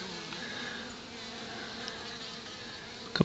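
Honey bees buzz at a hive entrance by a Gatlinburg cabin, a continuous close, droning hum of many insects with a few individual bees passing nearer, ending in a brief sharp bump.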